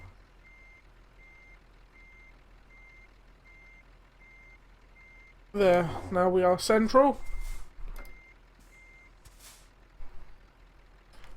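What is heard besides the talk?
truck reversing beeps in video game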